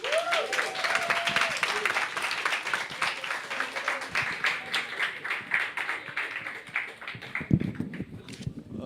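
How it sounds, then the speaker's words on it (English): Audience applause for a guest speaker at a Latino poetry reading at La Cueva de Tarzan, a steady wash of clapping lasting several seconds, with murmured voices mixed in and a brief louder thump near the end. "please, give a round of applause for our guest speaker"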